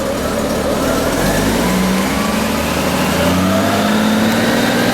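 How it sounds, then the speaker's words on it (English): A vehicle engine starts and revs up to idle during a charging-system voltage check, a steady loud engine drone with rising pitch swells, close and continuous with no talk. "Go ahead and start it up. And come up on the idle."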